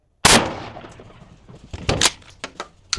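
A shotgun fires a single gauge slug into a 45-pound steel plate, giving one loud, sharp blast that rings out and decays, followed by a few quieter clanks and bumps.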